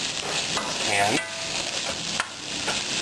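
Red coconut curry sauce with grilled tofu stirred constantly in a hot pan, an even close sizzle broken by spoon scrapes and a sharp clink near the middle.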